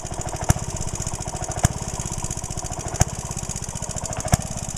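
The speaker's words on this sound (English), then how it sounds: "let the Briggs and Stratton turn it over until it starts up" A vintage Clinton engine being turned over by a Briggs and Stratton engine to help a weak magneto fire, giving a loud, steady, rapid mechanical chugging with a sharp knock roughly every second and a bit.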